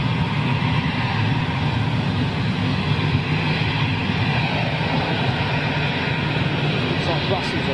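A Lufthansa jet lands and applies reverse thrust, a broad, distant roar that holds steady for several seconds while people chat nearby.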